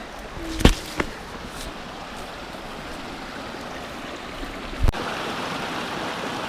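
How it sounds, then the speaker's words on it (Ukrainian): Steady rushing of a stream flowing over stones in a canyon, a continuous mid-level wash with a couple of sharp knocks near the start and one later. "Каміння і вода тече так сбоку тут класно. Шум такий."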